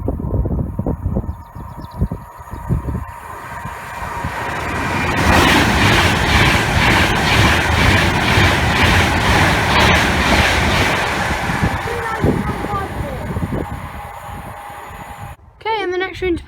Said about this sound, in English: we have a Class 390 going from Birmingham New Street to London Euston passing